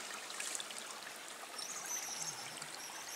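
Clear water trickles and babbles steadily through a small hand-dug channel outdoors under an overcast sky, a soft continuous flow with no talking.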